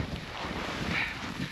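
Wind gusting at a cliff edge on a hike, a steady broad roar buffeting the microphone close up, with no voices.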